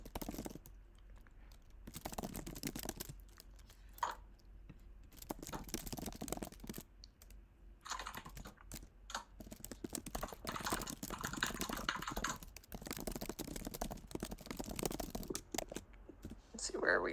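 A computer keyboard clatters in bursts of rapid key presses separated by short pauses, close and crisp, with occasional quiet voice sounds.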